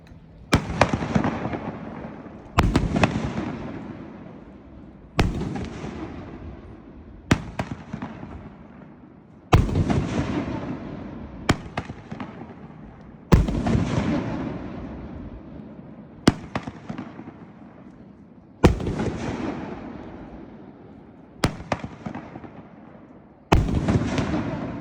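A 500-gram Power Diablo "Spread Your Wings" fireworks cake at an outdoor trade demo fires about ten sharp booming bursts at roughly two-to-three-second intervals, each followed by crackling decay, heard at moderate distance.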